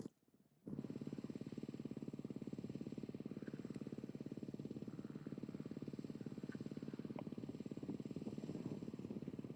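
A rally motorcycle at a desert rally stage start bursts into a steady, even engine drone that holds loud and constant after a brief quiet moment.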